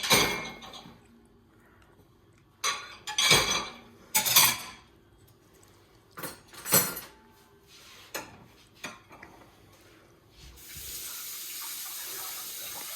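Dishes and cutlery clatter in a home kitchen as plates are cleared, with sharp bursts of clinking scattered between quiet gaps, followed by running faucet water filling a sink near the end.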